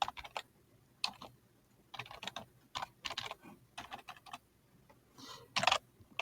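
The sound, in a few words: typing on a computer keyboard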